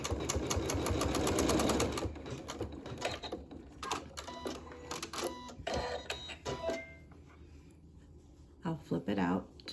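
A sewing machine runs a quarter-inch seam on a fabric pincushion, a quick burst of rapid stitching near the start followed by scattered clicks and handling knocks, close and fairly quiet.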